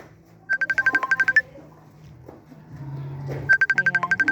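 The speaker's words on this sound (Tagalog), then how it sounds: "Dahil tumatawag si Duday." A mobile phone ringing with an incoming call inside a provincial house in Samar, two bursts of rapid pulsing ringtone beeps separated by a quieter gap with faint background noise.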